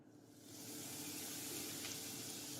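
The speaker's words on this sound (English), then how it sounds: "you see how nice the process of deep frying without no splattering of oil" Chicken pieces for popcorn chicken deep frying in a pot of hot oil, a steady close hiss and sizzle that swells in after a quiet start and holds evenly without splatter pops.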